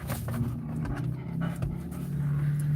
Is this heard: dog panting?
yes